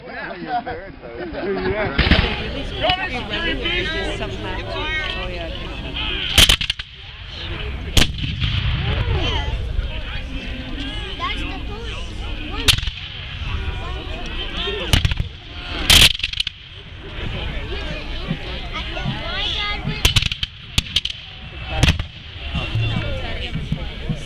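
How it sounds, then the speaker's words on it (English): Booming pyrotechnic cannon fire at a battle reenactment of Queenston Heights, several loud sharp blasts spread unevenly through the stretch amid constant crowd chatter and nearby voices talking. "Those are supposed to be like cannon rounds."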